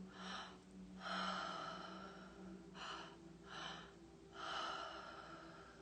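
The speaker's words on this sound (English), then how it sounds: "breathing in through our belly and our chest, out through our mouth, all open mouth, filling our mouth and our throat with air like a wave-like motion in and out" A deep breathing exercise, air drawn in through belly and chest and let out through an open mouth, heard as slow, close, audible inhales and exhales in a wave-like rhythm, four or five breaths, with no talk.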